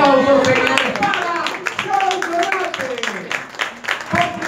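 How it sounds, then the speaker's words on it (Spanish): An audience claps in applause at an outdoor town festival in a plaza, with a clear harmonic voice ringing over the hands and heavy reverberant crowd noise. "¡Aplausos, señores!"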